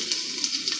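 Tempering spices sizzling in hot oil in a pan for a colocasia (chamadumpa) fry, a steady close crackling hiss with small popping bursts throughout.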